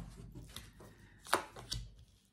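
A deck of tarot cards is cut by hand, giving a few soft, close shuffling and slapping sounds, with one sharper card snap in the middle, in a quiet room.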